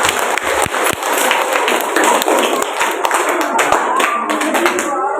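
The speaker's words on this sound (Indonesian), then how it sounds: "kita berikan aplaus untuk ketiga paslon" Audience applause in a school hall for three candidate pairs at a student democracy event, dense loud clapping from a crowd held steady for several seconds.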